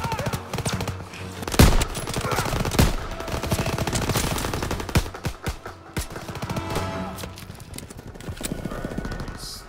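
Machine gun fire in the Call of Duty: WW2 D-Day battle, with rapid bursts rattling almost continuously. Loud gunshots and heavy explosion booms are mixed in, building into a chaotic, near firefight.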